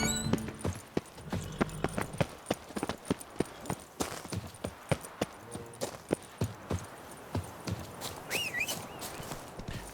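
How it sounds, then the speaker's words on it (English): Roach, a horse in The Witcher 3 video game, clops along at a walk. The hoofbeats come as a run of crisp, close knocks in an uneven rhythm, and a faint whistling tone joins near the end. "Horsey! Hey, Roach."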